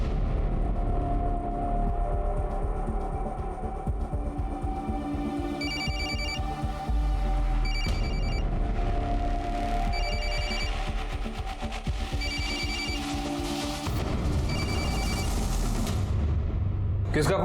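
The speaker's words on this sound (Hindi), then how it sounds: "फोन हमारा भाई का है, वही लेके आया था। अब बंद पड़ा था तो हम ऑन कर दिए रहे हैं।" A phone rings in a tense household scene, its electronic ringtone repeating in regular bursts over a busy background of voices and commotion.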